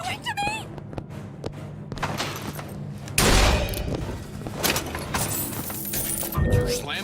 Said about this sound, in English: You slammed the door on me.